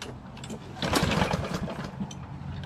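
A Lawn-Boy Insight 10604 rear-wheel-drive mower with a Kohler engine runs nearby, a steady rough engine drone that swells briefly midway and stays constant throughout.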